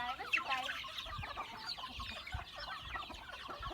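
Agitated chickens clucking and squawking close by as they are caught, a busy overlapping flurry of calls with some scuffling.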